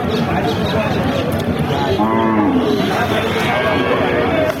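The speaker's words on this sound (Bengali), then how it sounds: "আপনারা শুনলেন দর্শক, বাছুরটা রেস্ট করতেছে, সাথে গাভী" A dairy cow with her young bull calf at a busy cattle market; several drawn-out moos rise over a constant crowd murmur and nearby talk.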